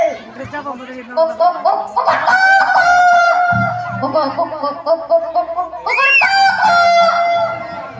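A performer's voice imitates a rooster crowing at a Pongal celebration, two loud, drawn-out crowing calls close to the microphone, the second rising sharply, with clucking sounds between them.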